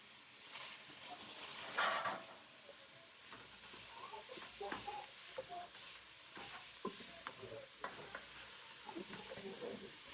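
Tomatoes hit a hot pilau pot and set off a steady sizzle and frying hiss, with a sharp burst early on and soft stirring scrapes running throughout.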